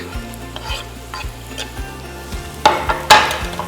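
Sliced garlic and diced bacon fry in a pot with a steady sizzle, while a utensil scrapes and stirs in clear repeated strokes and two louder clattering bursts come near the end.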